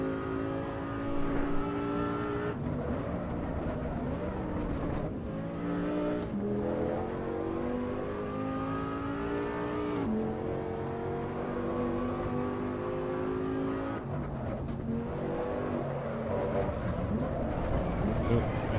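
Race car engine in Assetto Corsa Evo, steady revving with rising and falling pitch through gear changes, loud and continuous with a few throttle lifts, heard alone.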